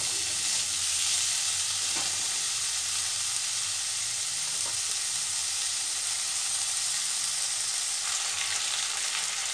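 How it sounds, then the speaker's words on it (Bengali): Vegetables fry in a pan as salt and turmeric are stirred in, producing a steady, fairly quiet sizzle with occasional soft scrapes of the spatula. "নুন আর হলুদটা একটু মিশিয়ে নেব।"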